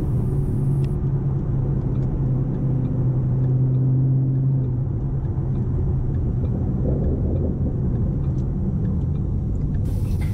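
Steady low rumble of a 2014 Roush Stage 3 Mustang's off-road exhaust while driving, a loud constant drone with a deep tone that holds through the whole stretch, no voices over it.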